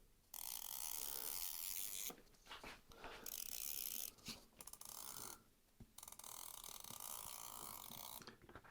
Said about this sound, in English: I have this chalk tool for doing the outline. It's awesome. It also clicks when you run it.